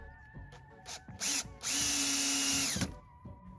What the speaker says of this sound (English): we are just going to line up the little screws with our pilot holes